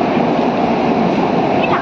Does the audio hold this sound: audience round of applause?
no